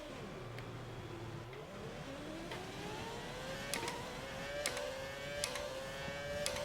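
F1 2020 race car engine at the USA circuit in a racing video game, revving and accelerating through rising gear-pitched whines with brief shifts and clicks, steady and close throughout with no talk.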